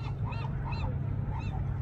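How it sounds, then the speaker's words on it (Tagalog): A dense chorus of honking birds, like geese or gulls, calling continuously over a steady low rumble of wind or surf on the coast at Bodega Bay, California, at low tide. "Maraming ibon."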